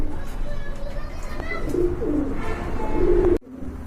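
Pigeons coo softly at a pigeon market, with repeated low calls over a steady bed of crowd and market noise. The sound cuts off sharply near the end.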